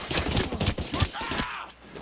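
Rapid gunfire bursts from the video game Ghost Recon Breakpoint, loud and close, with repeated sharp shots over about two seconds and voices talking over part of it.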